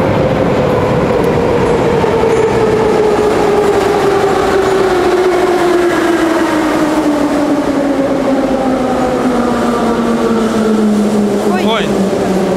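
A metro train rumbles continuously and loudly through the underground, with a steady droning tone that slowly falls in pitch and clickety-clack noise from the wagons. Voices can be heard under it.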